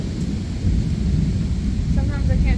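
Heavy rain pours steadily with a low, rumbling thunder-like roar that swells partway through, loud and close, with a faint voice near the end.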